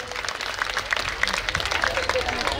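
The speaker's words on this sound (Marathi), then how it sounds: "या 5 जोरदार टाळ्या जरा झाल्या पाहिजेत" Applause from an audience at a Home Minister road-safety awareness stage event, steady dense clapping throughout with voices talking over it.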